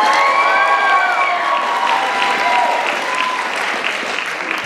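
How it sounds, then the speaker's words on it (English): At a Chinafest student performance, an audience gives steady, loud applause with scattered cheers and whoops mixed in, fading slightly toward the end. "Another round of applause for our singing coordinator."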